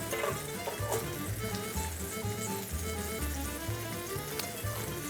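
Bacon sizzles in a pan with a steady, close crackling hiss that runs the whole time beneath low background music.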